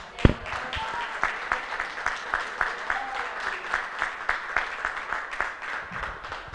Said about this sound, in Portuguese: eu quero aplaudir ao Senhor pela sua vida